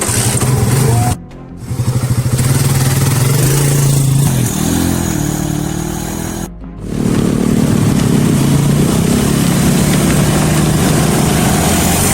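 A loud motorcycle engine runs steadily close by, with two brief drops in level, and otherwise rumbles continuously throughout.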